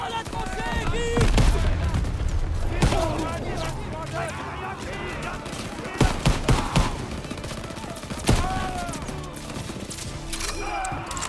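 Rapid gunfire and explosions from the World War II shooter Call of Duty WW2 fill the scene in dense, loud bursts, with a heavier cluster of shots near the end and game sounds layered over it.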